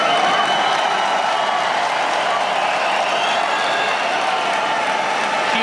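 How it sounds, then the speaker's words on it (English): Applause and crowd noise follow the final lap of the 2021 Abu Dhabi Grand Prix as Max Verstappen is crowned Formula 1 world champion; a continuous, washy roar of clapping and cheering holds steady throughout. "Huge applause for Max Verstappen"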